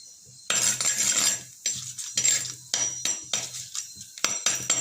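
Whole cinnamon, cloves, bay leaves and cardamom fry in a pan for Chettinad mutton curry, with a series of bursts of utensil scraping and rattling separated by short quiet gaps, close and moderately loud.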